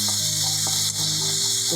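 Garlic ginger paste and onion sauté in a hot pan in a home kitchen, giving a loud, continuous close sizzle with faint stirring underneath.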